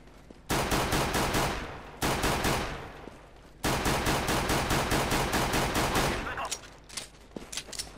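Automatic gunfire in Counter-Strike 2, fired through a gaming mouse macro: three long bursts of rapid, evenly spaced loud shots with short pauses between them, ending in scattered single shots.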